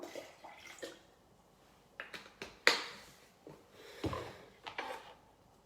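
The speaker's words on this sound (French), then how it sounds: "Ça, c'est 1 litre d'eau. Je vais rajouter la moitié." About half a litre of water poured from a one-litre measure onto lemon, heard as a few short, uneven splashy gushes with small knocks between them, close by and with no voices.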